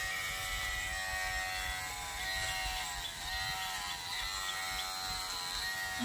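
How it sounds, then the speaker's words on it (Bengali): An electric hair clipper fitted with a new blade buzzes continuously while cutting hair, a steady close whine that varies slightly in load. "ওরে চুল কাটছে মেশিনে"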